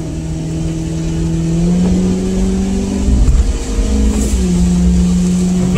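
A Ford Crown Victoria idles steadily after sitting unused for almost three months, a smooth, even low engine hum up close with a brief rise in revs partway through.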